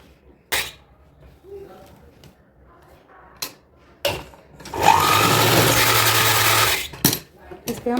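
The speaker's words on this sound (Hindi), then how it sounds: "इस पे हम डबल सिलाई लगा देंगे" An electric sewing machine runs a steady, close whirring burst of about two seconds while double-stitching fabric for a small girl's designer outfit, with scattered handling clicks and quiet talk before and after.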